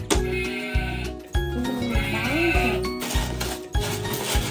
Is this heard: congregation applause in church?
no